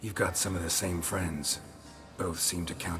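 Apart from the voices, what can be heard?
No everyday noise stands out behind the speech.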